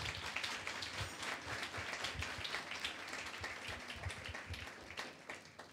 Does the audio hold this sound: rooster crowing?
no